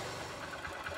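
Honda CG 150 motorcycle engine idling at low speed, a steady close rumble with continuous mechanical texture throughout the short moment, no voices.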